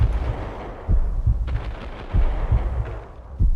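Uzi gunfire in the Max Payne video game, heard as repeated loud shots in several short bursts about every half second, with no talking.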